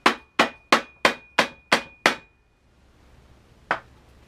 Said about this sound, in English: you want to give those a couple decent whacks while kind of holding on to the opposite side